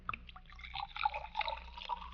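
Kalak mineral water poured into a glass, a faint trickle with light drips and gurgles heard up close in a quiet room.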